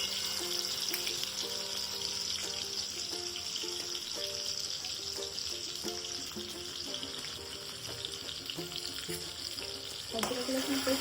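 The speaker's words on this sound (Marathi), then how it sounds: "अद्रक लसूण पेस्ट चांगलं लाल होऊन द्यायचं आहे।" Ginger garlic paste fries in a pan for chicken stock, giving a steady, close sizzle that lasts throughout. Soft stirring clatter can be heard, and there is a brief clunk near the end.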